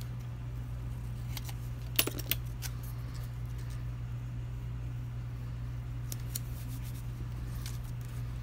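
Scissors cut a planner sticker sheet in half with a few faint, crisp snips and clicks over a steady low electrical hum.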